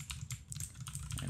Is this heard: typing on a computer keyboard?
yes